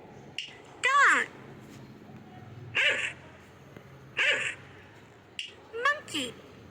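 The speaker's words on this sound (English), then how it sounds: "Dog." A dog giving a few short, sharp barks, spaced about two seconds apart, fairly close and moderately loud against a quiet background.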